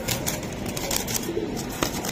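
Giribaz high-flying racing pigeons coo softly at close range, with light rustling and wing movement and no voices.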